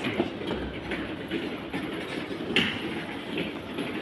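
A metro train rumbles and clatters at a station on the way to Anand Vihar, its wheels clicking over the rails in a steady, moderately loud run with no talking.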